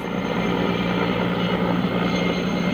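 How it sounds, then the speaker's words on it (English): A Helicopter Transport Services S-64 sky crane flies over the Ferguson Fire near Mariposa and Yosemite carrying a load of water, giving a steady, loud rotor and engine drone that holds constant throughout with no talk. "That's a helicopter transport services sky crane."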